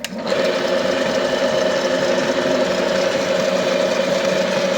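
Steady mechanical whine of a cheap AliExpress electric drill fitted with a brush attachment, running continuously at an even pitch right after it starts up, close and loud with no talk.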